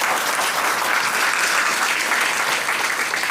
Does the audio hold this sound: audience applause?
yes